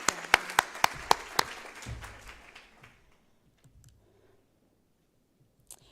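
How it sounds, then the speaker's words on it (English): At a lecture-hall conference a quick run of sharp, close hand claps rings out for about a second and a half, then trails off into scattered faint claps and near silence, with one last isolated clap at the end. "give everybody a round of applause"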